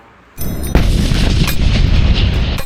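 A sudden loud blast from a tank's 105 mm cannon firing tracer rounds, followed by a sustained rumbling roar of heavy gunfire, with sharper cracks punctuating the noise.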